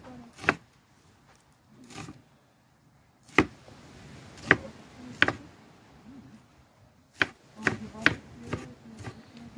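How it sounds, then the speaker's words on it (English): A knife chops sweet pepper and onion on a cutting board in a home kitchen, sounding as scattered sharp thunks, sometimes single and sometimes in quick clusters of two or three, with quiet gaps between. "Sweet pepper get chopped. Onion I get chopped."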